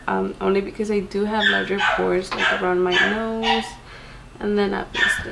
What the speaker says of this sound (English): She's always barking.